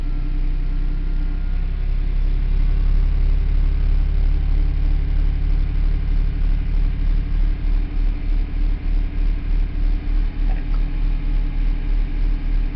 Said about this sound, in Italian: Raggiungiamo i giri motore di